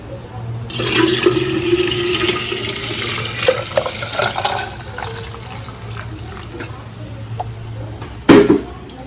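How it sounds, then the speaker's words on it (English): Strained kombucha liquid is poured into a jar of pineapple and passion fruit, making a steady, continuous splashing pour for several seconds that ends with a short, louder clunk near the close. "And then you fill the jar with the strained kombucha liquid."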